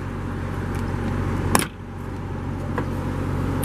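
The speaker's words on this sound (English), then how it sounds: "Now to pop the hood, nice and simple." A sharp metallic clunk as the hood of a 2017 Dodge Challenger R/T T/A Plus with a 5.7 liter Hemi V8 is released, a single close click standing out from a steady background hum.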